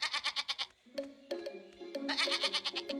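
A cartoon goat bleats in a rapid, shaky burst, then a pause filled with a sustained tonal sound, then another long quavering run of bleats, all fairly close and clear.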